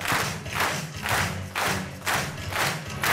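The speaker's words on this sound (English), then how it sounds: "Stomp your feet." An audience stomps their feet in unison at a live event, a steady series of about six heavy rhythmic thuds, loud and booming, without talking on top.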